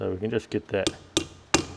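A hammer strikes a bearing being driven into an oiled front hub bore on a John Deere 4WD tractor: three sharp metallic taps spaced about a third of a second apart, close and loud, after someone speaks briefly.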